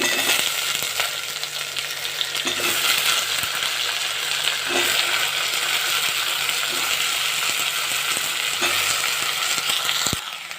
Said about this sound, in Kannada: ಇದನ್ನು ಸ್ವಲ್ಪ ಎಣ್ಣೆಲೆ ಫ್ರೈ ಮಾಡ್ತೀನಿ